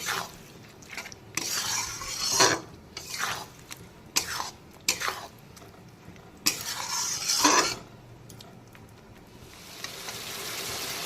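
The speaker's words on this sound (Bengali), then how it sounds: "সবার প্রথমে মশলাটাকে খুব ভালো করে কষিয়ে নেব, কষিয়ে একদম ভাজা ভাজা করে নেব।" Spice paste stirred and fried in a pan for a pomfret kaliya, with repeated scraping strokes in bursts over a steady low sizzle, close and fairly loud, no talking.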